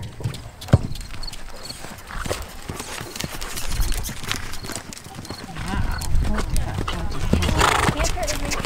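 Horses cantering during a riding class, with hoof clip-clop and an occasional whinny beneath frequent talking from riders close by.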